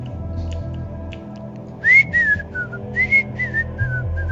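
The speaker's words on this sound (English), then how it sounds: "it doesn't pick up on me whistling" A person whistles a short rising and falling tune, several bright sustained notes in two phrases, clear and close over a steady low background hum.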